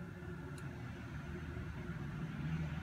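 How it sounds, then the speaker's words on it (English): A low, steady engine rumble from a bus in the distance, growing slightly louder toward the end, with no voices. "That's a bus in the background"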